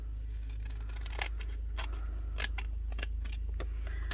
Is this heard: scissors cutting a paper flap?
yes